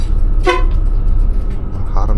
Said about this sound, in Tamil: ஹாரன்லாம் அடிக்கிறார்.